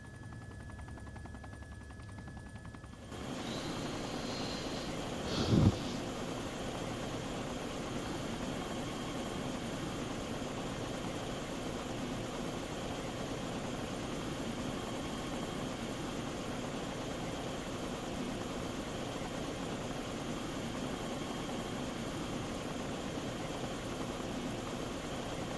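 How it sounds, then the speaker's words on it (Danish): In the video game Arma 2, a helicopter engine idles with a steady, even whine and hum that starts after a short quiet opening, with a brief bump in level early on, then carries on unchanged. "Ja, jeg er klar med min helikopter."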